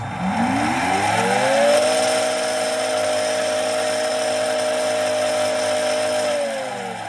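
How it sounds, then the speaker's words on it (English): Twin motors of a Dolphin Nautilus Plus robotic pool cleaner, one with a repaired impeller, start up on self-test, whining upward in pitch and settling into a steady, loud, close electric hum before winding down at the end. "Now I'll run the self-test, and it'll be more noisy. This motor will start running, and this one will start running."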